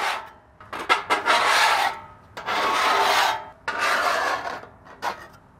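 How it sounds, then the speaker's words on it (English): A metal scraper tool rasps across a Camp Chef griddle's cooking surface, clearing stuck-on gunk in several long, harsh strokes broken by brief pauses, close and fairly loud, with nobody talking. "we want to get a bunch of this gunk off of here, so we'll just start scraping using our scraper tool."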